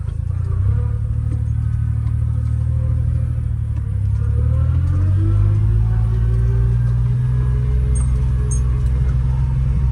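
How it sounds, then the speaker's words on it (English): A Honda mini truck drives in reverse on a farm, its small engine droning steadily and loudly close by, with the pitch rising and falling gently as it moves. "Backwards driving with the mini truck."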